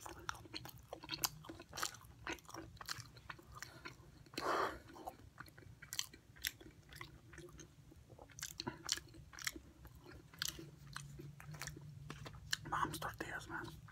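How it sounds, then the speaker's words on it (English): Close-up chewing of beans and homemade tortillas, with soft repeated wet bites and crunches and a few quiet whispered words between mouthfuls. "So I gotta dive in with some frijolitos and some tortilla."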